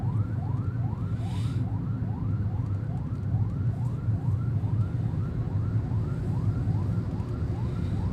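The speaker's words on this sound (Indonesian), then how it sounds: "Kok ada ambulans sampai 3 biji nih berurutan?" Ambulance sirens wail in a steady repeating cycle of rising sweeps, heard at moderate distance over continuous road traffic noise as the vehicles pass one after another.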